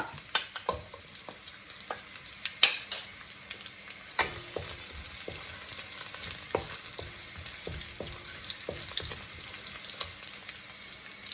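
Crushed ginger, green chili and curry leaves fry in a pan, a steady close crackle and sizzle broken by sharp spatula taps and scrapes, busiest in the first few seconds, with no voices.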